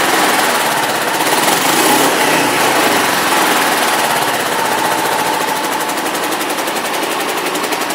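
A 2006 Kawasaki EX500R Ninja 500 parallel twin on stock pipes, idling and revving with a steady, rapid pulsing exhaust throb, loud and close, alone without talk.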